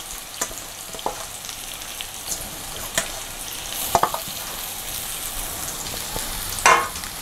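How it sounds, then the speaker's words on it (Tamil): Grated raw mango frying in hot oil, a steady low sizzle running throughout with a few light stirring clicks and taps over it and no one talking. "இந்த எண்ணெயில் இந்த மாங்காய் துருவலை சேர்த்துடலாம்."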